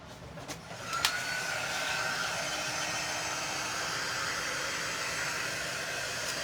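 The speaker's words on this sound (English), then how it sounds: "I'm going to give it a good dry." A hair dryer blows continuously on a freshly white-painted craft door tag, a steady airy whoosh after a couple of clicks at the start, close and without talking.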